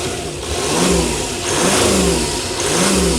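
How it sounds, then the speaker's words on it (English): A car engine on a long-distance road trip, with a possible actuator fault and an engine warning light, revs up and down in repeated mid-pitched surges, close and loud, with no talking. "Give it a rev, Chris."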